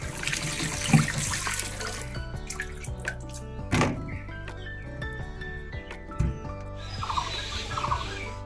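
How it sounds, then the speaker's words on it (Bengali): Tap water running and splashing in a sink while vegetables are washed by hand, with intermittent thunks and trickles, close and moderately loud, no talk. "এবার হাতের সাথে সাথে সবজিগুলো একটু ধুয়ে নিই"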